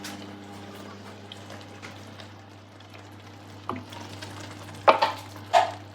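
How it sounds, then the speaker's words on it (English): A spoon stirs lamb pasanda curry in a pot after liquid and water are added, giving soft wet scraping and bubbling, with a few sharper clinks and scrapes near the end; quiet and close. "So give it a good stir"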